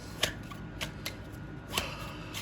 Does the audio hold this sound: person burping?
no